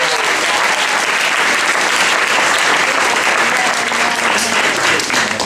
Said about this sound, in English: can we give her a round of applause for you?